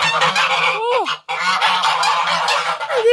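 A peacock calls loudly and close, a harsh honking cry repeated in quick pulses with a short break partway through, no talking alongside.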